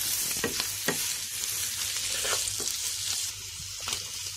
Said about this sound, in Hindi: शिमला मिर्च कम से कम 1 मिनट हम फ्राई करेंगे इसमें।